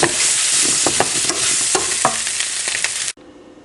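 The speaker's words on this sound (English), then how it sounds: "I'm just going to give that a good mix and let it cook for about 2 minutes more" Sprats and spicy potatoes sizzle loudly and close in a pan while a utensil scrapes and stirs through them in uneven strokes. The sound cuts off abruptly near the end, and no one speaks.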